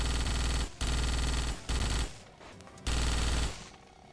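Rapid automatic gunfire from a weapon in the 2006 Starship Troopers video game rattles out in loud sustained bursts separated by brief pauses, with the final burst trailing off.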